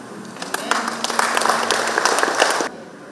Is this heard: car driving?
no